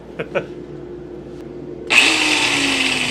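A small power saw with a thin 1/16-inch blade starts up for finishing a golf club ferrule, going from a few soft clicks and handling noises to a sudden steady, loud high whine that holds to the end.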